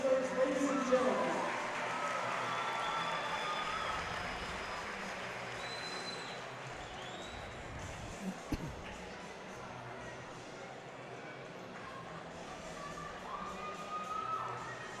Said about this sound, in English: One more round of applause for these hard-working wrestlers, ladies and gentlemen.